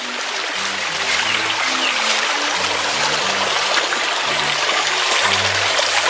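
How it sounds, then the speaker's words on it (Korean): Stream water flowing steadily near mountain farmland by Gayasan National Park in Seongju, South Korea, a constant moderately loud rushing trickle with no talk over it. "물소리 들리죠?"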